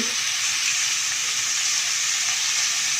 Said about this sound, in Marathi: यामध्ये हिरवी मिरची पेस्ट असं एकसारखं असं परतत राहायचं